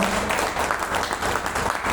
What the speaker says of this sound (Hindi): हम चाहेंगे उनके लिए एक बार जोरदार ताली हम लोग बनाएं